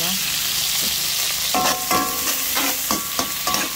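Garlic, onion and tomato sautéing in a pan for pakbet, a loud continuous sizzle punctuated by several sharp clanks and scrapes of a spatula stirring against the pan.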